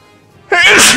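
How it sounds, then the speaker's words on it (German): A single loud, close sneeze bursts out abruptly halfway through after near silence, set during a Mario + Rabbids: Kingdom Battle gaming session. "das Niesen hört jetzt auf."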